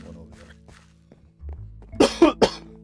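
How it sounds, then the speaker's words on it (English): A person coughs hard three times in quick succession, loud and close, near the end of a Minecraft play session. Faint game sounds and soft clicks come before the coughs. "Damn this goddamn cough."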